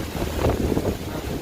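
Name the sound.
wind gust during Hurricane Isaias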